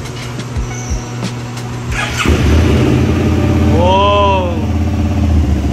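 An SVT 650x sport motorcycle with a new exhaust, silencer still fitted, cranks and fires up into a loud, rumbling idle close by, with a brief excited exclamation from a voice during the start.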